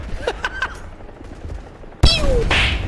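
A tank's main cannon fires in a chaotic vehicle combat video game: a few sharp gunfire bursts and whistling effects, then a sudden loud blast with a heavy, sustained rumble.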